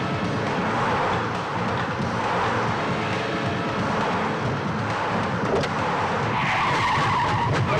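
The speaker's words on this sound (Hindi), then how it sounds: "हाँ भाई, ये नील की गाड़ी आ रही है।" Car tires skid and screech loudly as a vehicle arrives in an action scene from a Hindi-dubbed Kannada film, with a continuous, harsh, close-up roar and no voices.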